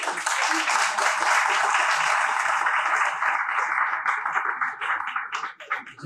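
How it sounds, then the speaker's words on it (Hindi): Dense audience applause at a book launch event, loud and continuous for about five seconds before thinning out and fading near the end. "सिर्फ तालियों से पता लग सकता है।"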